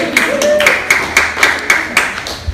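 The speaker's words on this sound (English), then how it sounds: "Clap for Steve" A small group claps for a volunteer during a business class, a short run of distinct claps in a loose steady rhythm, fairly loud and close, with a voice briefly audible underneath.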